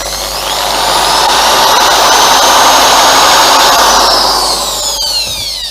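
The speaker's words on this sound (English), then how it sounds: "So yes, brass wire brush all over it." A power-driven brass wire brush scours a freshly welded bespoke subframe for a GSXR 1000 streetfighter build, giving a loud, close, continuous whirring whine that swells up and eases down over several seconds, with no voices.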